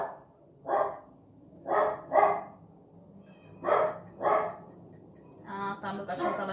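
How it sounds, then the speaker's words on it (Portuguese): A dog barks at a cat, giving two short pairs of loud barks separated by pauses, followed by a faster run of overlapping yips at the end, indoors and alone without voices. "meu cachorro tá latindo por conta do gato"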